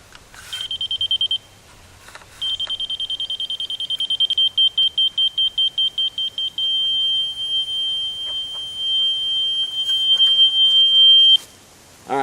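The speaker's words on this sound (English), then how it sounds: "Alright, so that solid beep means I'm right in line with it." A level receiver being calibrated emits high electronic beeps, first in short bursts, then a rapid pulsing series, settling into a long solid continuous tone that cuts off near the end.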